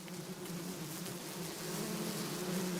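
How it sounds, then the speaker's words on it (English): Steady insect buzzing, as from a nest hidden in a corner of a room, drones on continuously at a moderate level throughout with no talking. "is that buzzing sound y'all thinking?"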